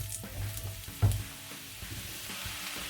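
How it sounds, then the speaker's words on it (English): Mushrooms frying in about five tablespoons of olive oil in a pan over medium heat, a steady close sizzle with faint stirring clatter and one brief louder knock. "These mushrooms have to fry for about 5 to 6 minutes."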